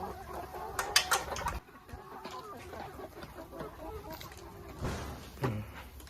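Laying hens on an egg farm cluck at a feed trough, short scattered clucks and squawks at moderate distance, with someone talking at times.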